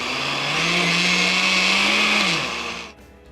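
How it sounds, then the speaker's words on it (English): A kitchen blender whirs loudly as it mixes banana pancake batter, a steady motor drone with a dense whine that winds down and stops near the end, leaving near silence. "So we've already gotten the batter done in the blender."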